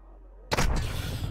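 A sudden loud gunshot in the Call of Duty DMZ video game, a sharp close blast that cuts in after near-silence and trails into a rumbling, crackling tail.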